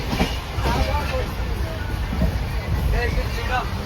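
A passenger train runs along the tracks on a journey to Puri, its steady rumble and faint rhythmic clatter filling the carriage while people talk nearby over it.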